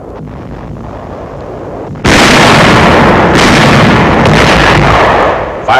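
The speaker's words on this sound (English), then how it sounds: "Firing on enemy barges in the Rhine before Dusseldorf." World War II artillery firing on enemy barges in the Rhine before Dusseldorf, a dense roaring blast that suddenly jumps to heavy, sustained loud rumble after a quieter start, no voices.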